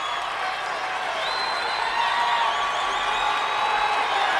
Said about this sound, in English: And now the crowd's getting involved.